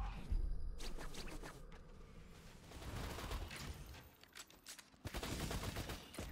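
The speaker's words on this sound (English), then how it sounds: "let's shoot this guy up a little bit." Rapid bursts of gunfire from the video game Borderlands 2, sustained and close, with dense repeated shots and brief gaps before another heavy volley near the end.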